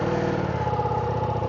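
A 2025 Ducati XDiavel four-cylinder motorcycle engine runs steadily at close range, a loud, even idle-like drone with no voices.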